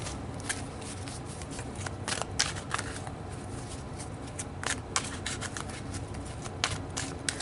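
Tarot advice cards are shuffled up close in a steady, papery riffle, with sharper flicks and slaps breaking through at intervals over a constant rustle, and no talk.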